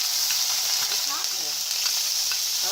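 Onions and red and green bell peppers sizzle and crackle steadily in hot peanut oil, a bright hissing fry with occasional stirring clatter.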